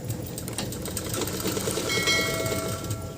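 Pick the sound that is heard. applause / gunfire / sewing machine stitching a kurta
sewing machine stitching a kurta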